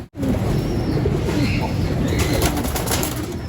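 Racing pigeons at a loft and aviary coo and flutter continuously amid a dense, steady wash of bird noise, with wingbeats and voices mingling close by.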